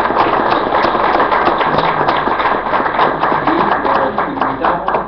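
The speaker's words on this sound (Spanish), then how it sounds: "Le hago un aplauso por el presentador." Audience applauds a presenter at a book presentation in Bolivia, a loud, dense, steady burst of many hands clapping close by for about five seconds.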